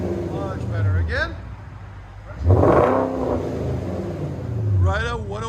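A Porsche Cayenne S with a 4.8L V8 and an aftermarket exhaust, either a Vibrant bottle resonator or a MagnaFlow muffler, revs in surging bursts that rise and fall. The engine sounds close, with people talking over it throughout.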